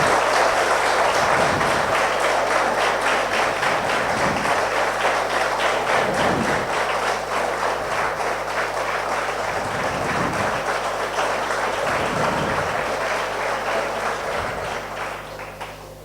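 A large audience at an entrepreneurship talk claps steadily and loudly for about sixteen seconds, a dense wash of many hands with low rhythmic thumps running underneath, fading slightly toward the end.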